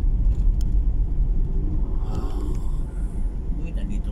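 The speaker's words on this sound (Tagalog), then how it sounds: "Traffic, mas lalong traffic." Dense city road traffic near a provincial capitol and hotel, a continuous low rumble of car and minibus engines close by, with a steady roar that swells slightly midway; someone talks over it.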